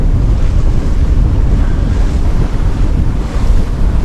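Strong wind buffets the microphone while a sailboat moves over open sea off the Nova Scotia coast near Cross Island, with loud, continuous roaring gusts over rushing waves and no voices.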